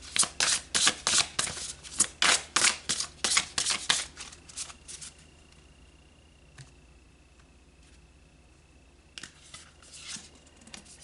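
Tarot cards being shuffled, a quick run of crisp riffling snaps for about four seconds, followed by a quiet pause and a few soft taps as the cards are laid out, close and with no talking.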